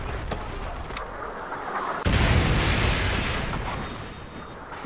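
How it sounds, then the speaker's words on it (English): Airstrike explosions in Call of Duty on the Seatown map, a loud blast that swells into a sustained rumbling roar after a stretch of distant gunfire-like noise, with no talk. "Friendly airstrike on the way."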